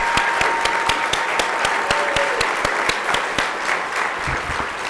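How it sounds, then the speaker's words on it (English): An audience gives a round of applause for disability agency staff at a governors' summit event, sustained dense clapping from a crowded hall lasting the whole stretch, close and loud. "Give them a big round of applause."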